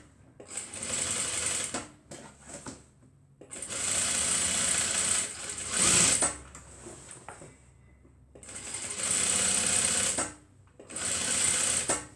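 A sewing machine stitches the two sides of a tote bag in four fairly loud bursts of rapid, rattling needle chatter, separated by short quiet pauses.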